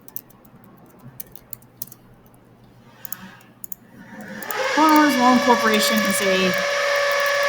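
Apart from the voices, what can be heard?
drilling from construction work nearby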